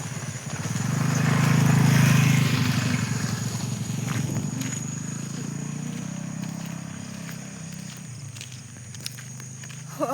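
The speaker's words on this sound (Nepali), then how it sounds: "अनि बाइक आइरहेको रहेछ उताबाट।" A motorcycle approaches along a village road, its engine drone swelling to a loud peak in the first few seconds and then settling into a steadier, softer hum. No one speaks.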